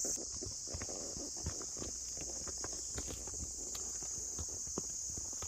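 A horse carries riders at a walk around a golf ground on a hill-country ride, and its hooves clip-clop in a faint, irregular patter. A steady high hiss of insects or wind runs under it, and there is no talk.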